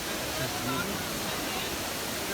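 Steady rushing water of the Trevi Fountain in Rome, a constant broadband splash and roar filling the clip at moderate level with no clear breaks.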